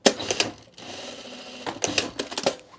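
Sewing machine stitching fabric scraps for mulch mats with an automatic back tack, a steady mechanical whir running through the middle between sharper clattering bursts at the start and end, fairly close.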